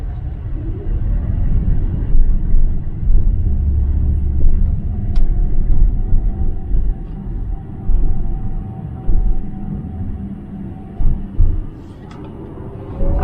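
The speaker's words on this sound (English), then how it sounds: "I'm giving it full throttle." Volkswagen ID.4 electric car under full-throttle acceleration, heard from inside as a loud, steady low rumble of road and motor noise that swells and dips slightly, with faint high whine and no talking.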